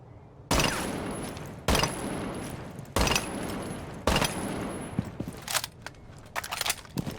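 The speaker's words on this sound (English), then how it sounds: "The SMG11 bursts like this." Short bursts of SMG11 submachine gun fire in Rainbow Six Siege, four sharp, loud volleys spaced about a second apart, each with a trailing tail, followed by scattered softer clatter and impacts.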